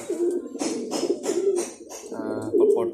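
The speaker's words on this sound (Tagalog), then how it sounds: "Sumasabay pa yung aking mga ibon sa ingay." Domestic pigeons coo close by in a loft, soft repeated throaty cooing phrases running continuously, with a person speaking over them.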